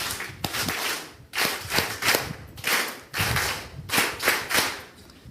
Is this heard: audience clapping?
yes